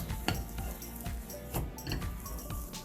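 Salt being mixed into roti dough in a bowl, with repeated scraping and clinking of a utensil against the bowl in an uneven rhythm, close and fairly quiet, with no speech.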